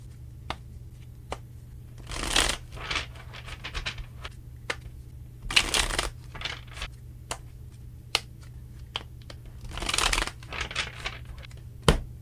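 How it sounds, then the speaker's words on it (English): Tarot cards shuffled by hand in several bursts of riffling and soft slaps, close and fairly quiet over a steady low hum, with sharp single card taps between the bursts. "Three more shuffles and let's begin."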